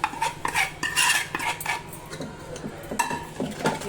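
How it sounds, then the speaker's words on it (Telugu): A metal spoon stirring gongura leaves into mashed dal in a steel pot, with repeated clinks and scrapes against the vessel and a wet squelching texture, close and steady with no talk. "ఇలా కలుపుకొని మొత్తం అంతా ఇలా కలుపుకోవాలి"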